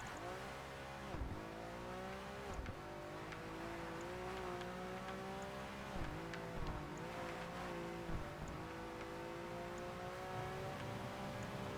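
A racing car's engine in Project Gotham Racing 2, revving steadily with repeated dips and climbs as the driver shifts gears through corners, continuous and loud with faint tire noise.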